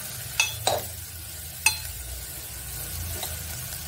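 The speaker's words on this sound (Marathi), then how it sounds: "आणि ही छान परतून घेऊया।" Dhemse (round gourd) being sautéed in a pan, a soft steady sizzle with a few sharp clinks and scrapes of a spatula stirring against the metal.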